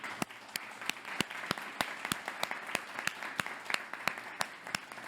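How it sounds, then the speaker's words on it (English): An audience at an art show talk in a bicycle café gives a round of applause, with dense steady clapping and a few sharper individual claps standing out, moderately close. "let's give a big round of applause and thank you to the London Bicycle Cafe"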